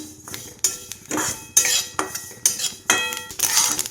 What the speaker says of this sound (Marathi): तीळ भाजताना ना हे बघा असे तडतड उडले छान असे ना